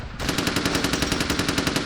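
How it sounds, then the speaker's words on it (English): Rapid automatic gunfire bursts in the video game Vampire: The Masquerade - Bloodlines, during a Sabbat war raid, loud and continuous with a steady rattling rhythm after a brief quieter start, no talk. "As you can hear from the gunfire and screams in the background"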